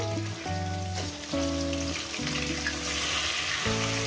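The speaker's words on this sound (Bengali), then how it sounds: "মাছগুলো ভাজা হবে" Fish pieces fry in a pan for a rohu curry with drumsticks, a continuous crackling sizzle heard under loud instrumental music throughout.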